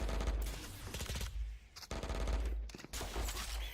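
Rapid automatic gunfire from a Valorant pro match, dense bursts crackling in quick succession with brief gaps, loud and close over a busy game mix.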